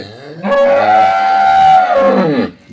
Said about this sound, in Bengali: দেখছেন এখানে দুটি গরু রয়েছে